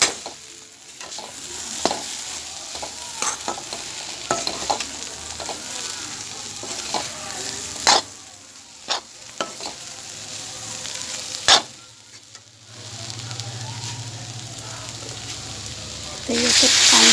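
Spices for an egg and pea ghugni frying and sizzling in a pan, a steady hiss broken by repeated scraping stirs and clatters of a spoon, close and fairly loud.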